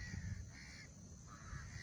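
A house crow (Corvus splendens) gives two harsh, nasal caws close by, one after another against a steady background hiss, with no talking.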